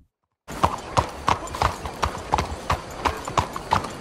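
Horse hooves clip-clop at a steady walking rhythm in the Red Dead Redemption video game, each hoof strike crisp and distinct, starting after a brief silence and continuing evenly.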